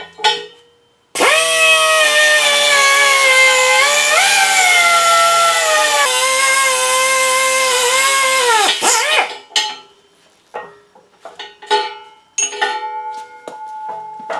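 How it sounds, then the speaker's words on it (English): A die grinder cuts through thick metal for a pedestal that will hold a buffer, giving a loud, sustained high-pitched screech that bends in pitch for about eight seconds, followed by scattered clanks and handling noises. "Let me see if I can cut this off with a die grinder."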